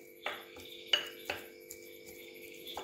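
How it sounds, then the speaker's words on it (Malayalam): Boiled potatoes are mashed with a ladle in a pan, a few sharp metallic clinks and scrapes spaced irregularly, close and fairly quiet. "ഒരു തവി വെച്ചിട്ട് നമ്മൾ ചെറുതായിട്ടൊന്ന് മാഷ് ചെയ്ത് കൊടുക്കുക"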